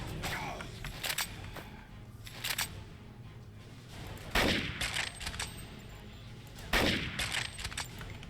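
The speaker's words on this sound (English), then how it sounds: "What is shooting me now?" Gunfire from the video game NecroVisioN: Lost Company: a few sharp, loud shots in separate bursts against a low game background.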